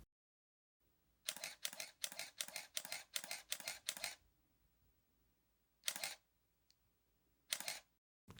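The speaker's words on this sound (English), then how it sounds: "Just give you a quick listen on the sound now so you can hear the shutter." A Konica Minolta 7D SLR camera shutter clacking in a rapid burst of seven shots, then two more single clacks after pauses, crisp and close.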